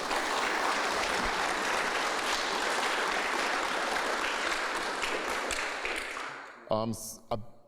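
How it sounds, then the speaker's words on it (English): A room full of people at a police department community meeting claps steadily for several seconds, a dense sustained applause that fades near the end, where a few scattered claps and a voice break through. "So if we could give them a round of applause for me, please."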